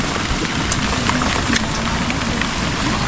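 Steady, heavy rain from Typhoon Carina and the monsoon falls in Occidental Mindoro, making a dense, continuous patter with no talk.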